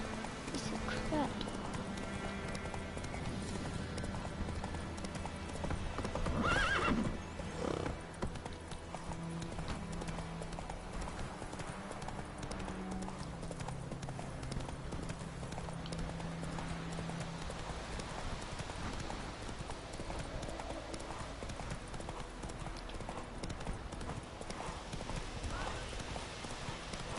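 Roach the horse gallops in The Witcher 3, hooves clip-clopping in a fast, continuous rhythm throughout, with a neigh and occasional spoken lines over the hoofbeats.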